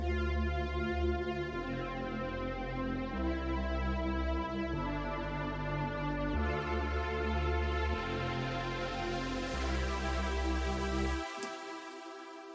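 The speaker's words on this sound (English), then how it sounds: "So that's more of a hands-up type pad, more of a trance sort of style." Processed hands-up trance synth pads, sustained bright chords that shift every second or so in a steady loop, full and loud, ending in a brief fading tail.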